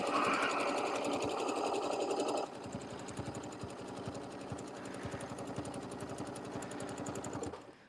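A sewing machine back-stitches through canvas for a table topper, its needle chattering in a fast, steady rhythm close up, louder for the first couple of seconds, then running on evenly before stopping.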